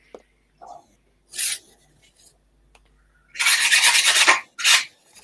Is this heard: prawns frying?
no